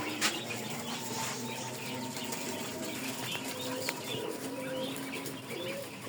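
Quail in a coop flap their wings in repeated bursts, with soft chirps and coos mixed into a steady, close flutter.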